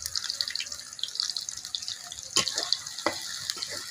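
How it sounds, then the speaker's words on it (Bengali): Onion and garlic fry in butter as a tempering for khichuri, giving a continuous bright sizzle broken by sharper scrapes and clacks of stirring, close up with no talking. "এবার এইগুলো লাল লাল করে ভেজে নিবে। ফোড়নে ভাজা হচ্ছে।"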